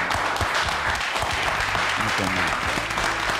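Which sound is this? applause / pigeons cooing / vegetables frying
applause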